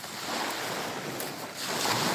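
Sea waves wash and surge on an early-morning shore, a steady broad roar that swells slightly toward the end, with no talking.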